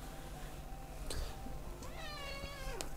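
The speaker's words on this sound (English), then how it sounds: "there is a small cat just sat there" A small cat meows several times, each call rising and falling, close and fairly clear over a quiet indoor background.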